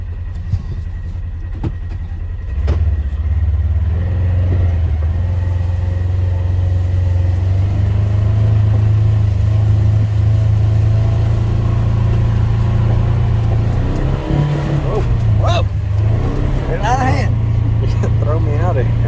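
A Polaris side-by-side engine runs loud and close on a test drive, a constant low droning roar with pitch shifts as it revs, while people talk and shout over it.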